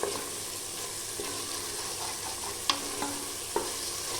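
Ginger-garlic paste, onion and tomato masala sautéing in oil for a mutton pepper gravy, a continuous even sizzle with a few sharp spoon taps scattered across it.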